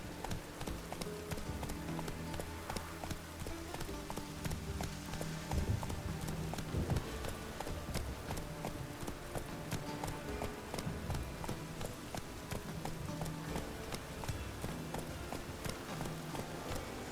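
Hooves of a horse galloping in The Witcher 3 beat a rapid, steady clip-clop over a dense, constant background of game ambience, near and continuous throughout.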